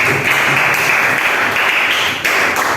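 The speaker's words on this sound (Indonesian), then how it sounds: "Tuh, tepuk tangan." A classroom audience claps together in a short burst of dense, steady applause that keeps going at an even level for a few seconds, with no clear talking over it.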